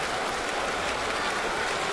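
Crowd of over 45,000 at a Twins vs Yankees baseball game, a brief, steady roar of cheering and noise from a distance with no individual voices standing out.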